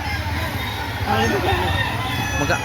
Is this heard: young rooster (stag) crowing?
yes